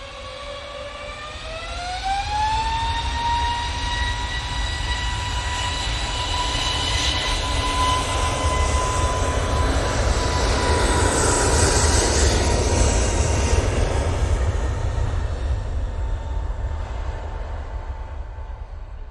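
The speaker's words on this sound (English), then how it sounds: "got the Jet2 A321 Neo State going off to Corfu this one" Jet2 Airbus A321neo taking off from Manchester Airport toward Corfu: a loud, sustained engine roar and whine rising in pitch as power builds, then holding steady for a long stretch before easing as the jet climbs away.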